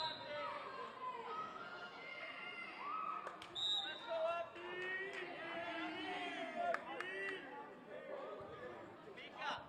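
A chatty crowd in a gym at a girls' high school volleyball match, a steady wash of overlapping voices and children's shouts with occasional sneaker squeaks and ball thumps.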